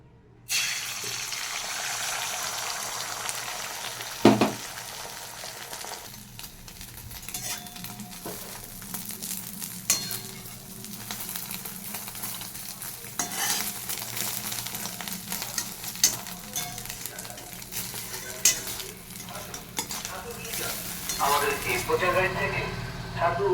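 Beaten egg frying in a pan for an omelet, producing a continuous sizzle with stirring clatter and some running tap water, while a voice speaks over it.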